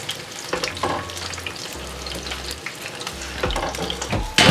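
Fish curry stirred in a pan on the stove, with a spoon scraping and sloshing through the liquid over a soft steady sizzle, close and with no talk.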